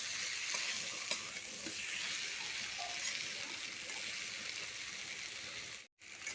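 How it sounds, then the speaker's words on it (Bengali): Potato and fried eggplant being stir-fried with spices in a pan, giving a constant bright sizzle with occasional stirring scrapes, steady throughout before a brief cut near the end. "আলু বেগুন একসঙ্গে কষে নেবো।"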